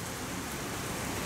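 Steady, dense rain pouring down outdoors, a continuous loud hiss of drops on surfaces with no gaps and no voices.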